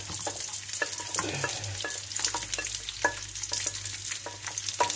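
Garlic sautéing in a pan for a balbacua stew, a steady sizzle with intermittent clicks and scrapes of a stirring utensil against the pan, close and continuous without talk.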